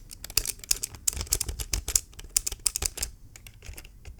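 Close-up computer keyboard typing, a brisk irregular patter of sharp, clicky keystrokes with a few brief pauses, heard alone and picked up in fine detail.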